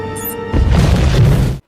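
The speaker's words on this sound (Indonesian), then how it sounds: "Buddy menjatuhkan bom ke air terjun. Dan Mr. Incredible berusaha kabur dari ledakan tersebut" A bomb explodes at a waterfall in the animated film The Incredibles, giving a sudden loud booming blast with rumbling debris that follows a brief tonal lead-in and then cuts off abruptly.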